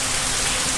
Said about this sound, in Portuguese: Porque tá chovendo.